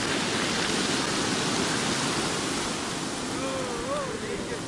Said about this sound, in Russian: Сегодня просто шикарные волны